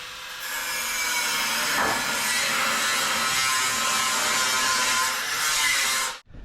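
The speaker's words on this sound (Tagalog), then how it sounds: "mag-start na silang gumamit ng grinder" Angle grinder cutting at a construction site during wall plastering work, a loud continuous high-pitched grinding whine that holds steady for about six seconds, then cuts off abruptly.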